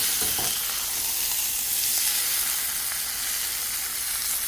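A roast sears in a hot pan with a steady, close sizzle and crackle of fat that holds evenly throughout, with no voices.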